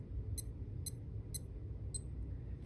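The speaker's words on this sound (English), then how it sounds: "When you press various buttons on this watch, you will hear a beeping noise." Four high, thin beeps from a Casio Fishing Timer WS1500H-1AV watch button tone, spaced about half a second apart, each very short, faint and close over a low hum.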